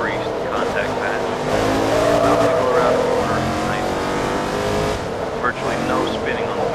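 A race car corners in Forza Motorsport 2, its engine holding a loud sustained drone with a faint squeal of tires, while someone talks over the game sound.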